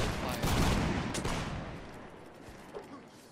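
Musket volley fire in the video game Napoleonic Wars, a dense rolling crackle of many shots that swells loudly at first and then tails off into a fainter, scattered rumble.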